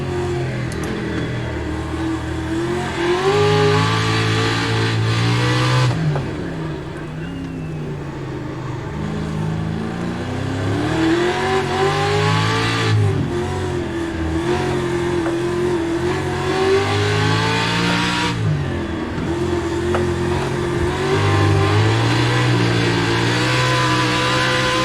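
Pro 2 racing trucks in a video game race at Long Beach, engines roaring loudly and continuously with repeated revving rises and drops as they shift, no talk over them.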